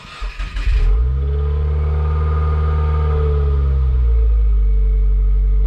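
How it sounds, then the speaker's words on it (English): A Subaru WRX with an Invidia N1 aftermarket exhaust cranks with a few sputters, then fires up into a loud, deep rev that holds and slowly settles back toward idle. "Here's the aftermarket exhaust."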